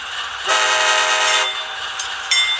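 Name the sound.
model train horn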